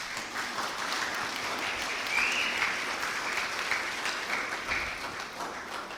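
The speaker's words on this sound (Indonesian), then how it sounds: "Tepuk tangan dulu." Guests at a church wedding ceremony clap in a steady, dense round of applause that lasts throughout, moderately loud and even, with no break.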